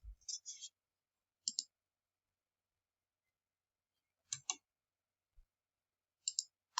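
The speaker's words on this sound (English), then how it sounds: "So press Print Screen on your keyboard" Keys pressed on a computer keyboard, heard as a few sparse clusters of sharp, close clicks separated by silence.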